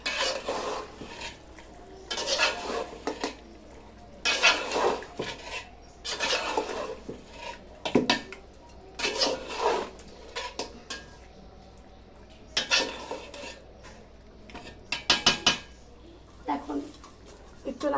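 Beef curry in a pot on a clay stove on a veranda, stirred with a metal utensil in repeated scraping, clanking bursts against the pot over a faint sizzle, with a voice speaking in between.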